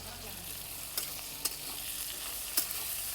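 Green chillies with garlic and salt sauté in a pan, a constant bright sizzle broken by three crisp spatula taps spaced across a few seconds.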